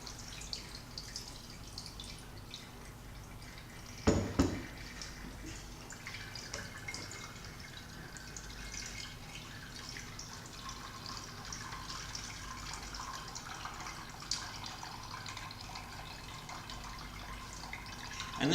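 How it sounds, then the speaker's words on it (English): Fish glue liquid dripping through a strainer into a container in a workshop, a continuous soft trickle and patter with a brief louder splash early on. "of course pour it in so you strain and get some of the stuff out"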